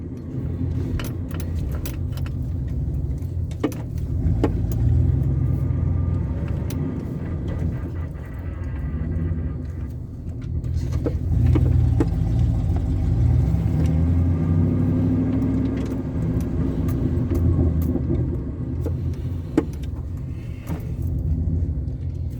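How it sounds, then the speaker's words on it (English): Steady low rumble of a Dodge Dakota's engine and exhaust while driving, with rising and falling swells, plus small rattles and jingles from inside the cabin. "I think I like the sound of the exhaust."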